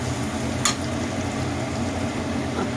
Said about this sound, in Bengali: পেঁয়াজটাকে ভালোভাবে ভেজে নিতে হবে, একটু লাল লাল করে।